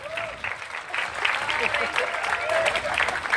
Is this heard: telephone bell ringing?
no